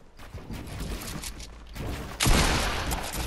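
Fortnite gunfire in a video game: scattered shots and mechanical clatter early, then a sudden loud burst of dense firing near the end, close and harsh.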